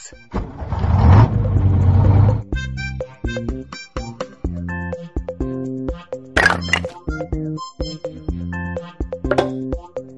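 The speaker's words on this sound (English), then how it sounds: "Bus." Bus engine starting and revving up nearby for a couple of seconds, then a lively sequence of plucky musical notes carries on to the end.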